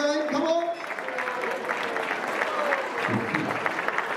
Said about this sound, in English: and gentlemen, please give Mrs. Adleem Hanif a big round of applause.